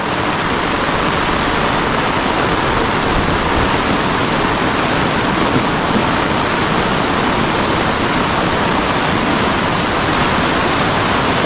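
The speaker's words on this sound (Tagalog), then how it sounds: "Malakas na palakas yung tubig oh." A strong mountain stream swollen by heavy rain rushes loudly and steadily, a dense continuous roar close by with no one speaking.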